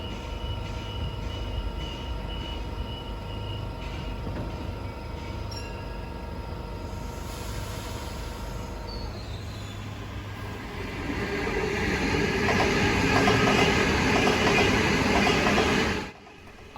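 A Waratah Series 2 electric train, a B set, runs through Petersham in Sydney. Its motor whine and rail hum build to a louder rushing pass with wheel squeal near the end, then stop abruptly.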